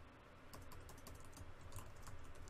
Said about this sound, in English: we're going to simply type in the following